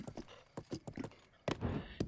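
Horse hooves clip-clopping in the video game Breath of the Wild, a series of fairly close, rhythmic hoofbeats on a path, steady at first and then heavier and more bunched toward the end.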